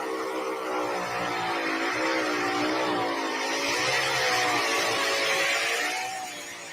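A pulling tractor on big 30.5 tires roars at full throttle at a tractor pull in Fisher, Illinois, its engine a loud sustained drone with wavering pitch as it rolls forward, close and unbroken throughout.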